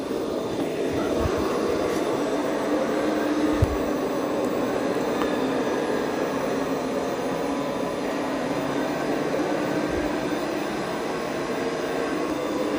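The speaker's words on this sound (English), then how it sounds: "It's actually doing a good job vacuuming." An ECOVACS DEEBOT T20 Omni robot vacuum runs steadily, its motor holding a continuous whirring drone with a few faint knocks and bumps throughout, and no voices.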